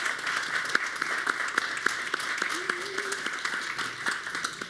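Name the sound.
applause for student union candidates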